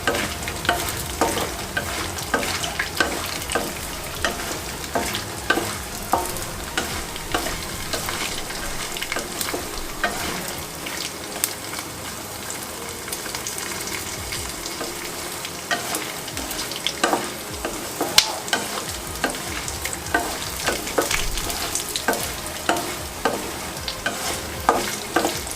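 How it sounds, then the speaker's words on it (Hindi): Makhana lotus seeds roast in a pan, dry rattling and crackling under constant stirring and scraping, busy and close for the whole stretch with no speech. "मखानों को हम करारा होने तक भूनेंगे।"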